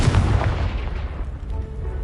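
The Confringo fire spell in Hogwarts Legacy blasts a pile of debris blocking a stairwell, giving one deep, booming explosion that hits hard at the start and then rumbles away into a fading low tail.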